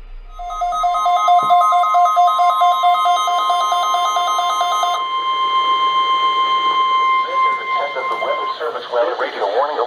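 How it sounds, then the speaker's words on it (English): A NOAA weather radio warning alarm for north central Ohio sounds as a loud steady pulsing electronic tone with harmonics, then gives way to a synthesized announcer voice over a lingering tone. "Weather radio warning alarm for the WNG 698 listening area of north central Ohio."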